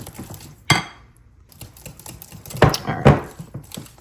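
A metal whisk beating limoncello pie filling by hand in a bowl, giving a few sharp, scattered clinks against the side amid softer stirring noise, close and fairly loud, with no talking.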